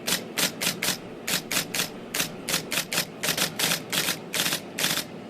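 An old IBM typewriter clacks out rapid, uneven bursts of keystrokes, crisp and close, with short pauses between groups and no voices.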